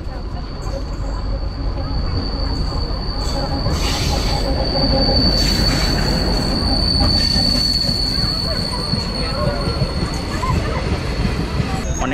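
A DEMU passenger train pulls into a station platform, its wheels squealing in a steady high metallic whine over continuous loud rumble and clatter, with faint voices in the background.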